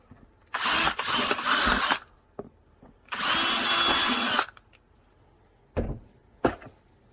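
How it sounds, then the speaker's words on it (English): A power drill whirs in two loud bursts, drilling out a fastener on a Ford Bronco (sixth generation) rear door, stopping and starting, followed by a few close clicks and knocks. "So I am going to drill that one out a little bit more."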